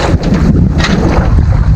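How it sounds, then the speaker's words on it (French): Strong wind gusts roar and buffet the microphone aboard a sailboat under sail at sea off Cap d'Agde, a steady loud rush with no voices. "Il y a du vent."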